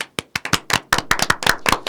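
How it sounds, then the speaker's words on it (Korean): A small group claps by hand, a quick run of close, sharp, uneven claps that builds into brief applause with no talking. "공수처가 통과됐는데 박수 한번 더 칠까요?"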